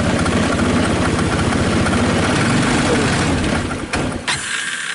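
An ATV engine with a suspected bad pulse generator idles loudly up close in a steady low chugging rumble, then dips and sputters unevenly near the end.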